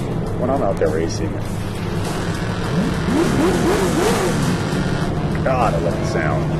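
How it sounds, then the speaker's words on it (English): A drift car engine and exhaust rev and roar in rising and falling bursts at a drifting event, loud and close, with a voice talking over it. "With the sound of this exhaust"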